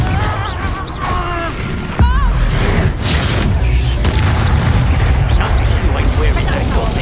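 A Confringo explosive spell blast from the game Hogwarts Legacy, a loud booming burst around two seconds in followed by sustained rumbling combat noise, with a voice shouting over the action.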